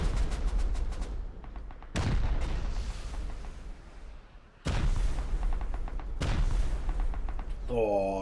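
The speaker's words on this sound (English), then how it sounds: "Oh, enjoy the explosions." Several sharp explosive blasts go off in turn in the video game Rust, each trailing into rumbling noise, with quieter stretches between them.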